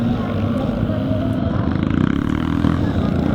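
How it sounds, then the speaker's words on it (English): Vintage Speedway-derived motorcycle engines roar steadily at a classic scramble race, a dense, continuous low rumble with slight surges, close by and loud throughout. "these Speedway derived engines are getting a good workout from James Thompson"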